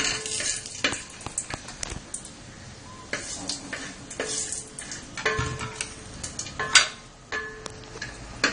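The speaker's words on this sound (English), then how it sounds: "To that I am going to add the whole masala like black cardamom, cinnamon and cloves. Just fry it for some time." Whole black cardamom, cinnamon and cloves fry in ghee in a pot, a soft crackling sizzle broken by scattered ticks and clinks of a spoon against the pan, with no talking.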